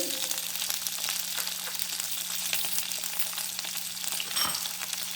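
Onion and garlic hiss and sizzle in hot oil for a prawn gravy, a steady close crackle with occasional stirring scrapes and a low background hum.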